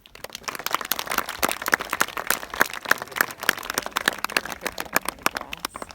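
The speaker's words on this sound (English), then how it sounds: "If I could just get a quick round of applause for the Ananu" An audience gives a quick round of applause honouring the Anangu traditional custodians at an outdoor dinner, dense steady clapping from many hands sustained for several seconds with no talk over it.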